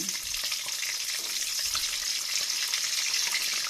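Onions and shallots hitting hot oil in a pan for vegetable lodeh, giving a loud, steady, crackling sizzle throughout with occasional stirring clinks.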